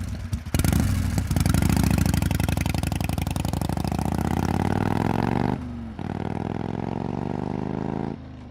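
A huge motorcycle starts up and roars loudly, engine revving steadily for several seconds before cutting off briefly and resuming at a lower idle, alone with no talk.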